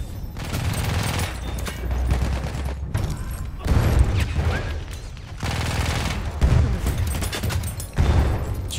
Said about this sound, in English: Jesus Christ, the amount of nades!